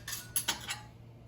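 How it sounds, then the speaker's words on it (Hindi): A spoon clinks and scrapes in a bowl mixing spiced leftover rice pakora batter, a few quick metallic taps close by, then quiet. "अब इसको अच्छे से मिक्स कर लीजिए।"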